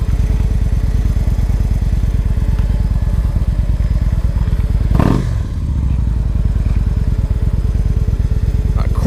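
Motorcycle engine running close and loud with a steady, rapid pulsing chug and a faint nattering rattle, briefly rising in a swell of revs midway before settling back to idle.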